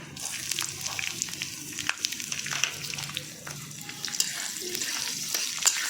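Poha dry-roasts in a pan with roasted chana and green chillies, giving a soft, steady sizzle broken by frequent scraping and clicking stirs of a spoon against the pan, close and fairly quiet.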